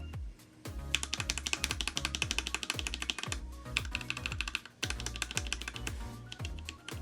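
HiMu mechanical keyboard switches being typed on, a fast, steady stream of close clicky keystrokes with deep thocky bottom-outs and a brief pause midway.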